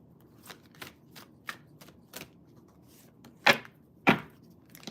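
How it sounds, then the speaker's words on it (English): Tarot cards are shuffled by hand in a quiet room, giving a string of soft, crisp riffling bursts and taps that end in two louder, sharper snaps of the deck. "just the way these cards shuffled"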